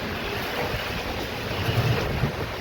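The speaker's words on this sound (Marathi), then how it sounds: "खूप अशी हवा सुटलेली आहे" Strong gusting wind during an unseasonal summer rainstorm in Chhatrapati Sambhajinagar, roaring steadily and fairly close with broad rushing noise and low rumbling buffets, heard alone.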